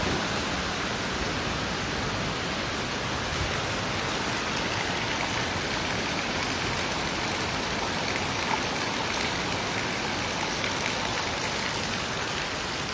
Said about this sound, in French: Et là il pleut